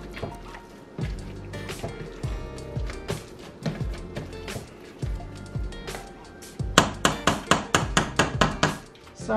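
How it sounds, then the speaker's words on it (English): Potatoes are mashed with a potato masher in a pot, giving repeated soft thuds and squelchy knocks at an irregular pace that speed up into a quicker run of strokes near the end. "And I just have a potato masher."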